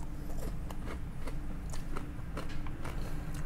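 Crunchy crab tempura, freshly fried and salted, is bitten and chewed at close range, giving a run of quick, quiet crisp crackles with no talking.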